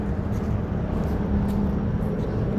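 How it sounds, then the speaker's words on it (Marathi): A train rumbles past as a heavy, steady low roar with a faint hum, loud and continuous for the whole stretch without any break. "जरा मुंबईवाली फिलिंग आली आपल्याला ट्रेनचा आवाज ऐकून"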